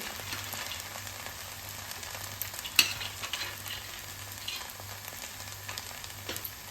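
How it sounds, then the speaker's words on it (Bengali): Boiled sago being stirred with fried peanuts in a pan for a vegetarian sago khichuri: a continuous close sizzle broken by scraping strokes and one sharp metallic clink. "এইবার এর মধ্যে মিলিয়ে নেব ভেজে রাখা বাদাম"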